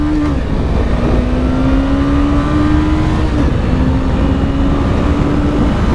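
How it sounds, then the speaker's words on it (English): A 2017 Suzuki GSX 250R motorcycle accelerates hard, its engine tone rising steadily through the gears with a brief dip at a shift, loud and close over steady wind and road noise. "So the acceleration that you just saw is the peak of what Suzuki says this bike can do."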